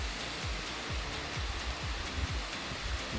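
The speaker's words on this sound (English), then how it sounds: "Look at that waterfall." Steady roar of rushing, falling water from a waterfall in China's Wulong Mountains, with a broad hiss, constant and fairly close, with a low rumbling pulse underneath.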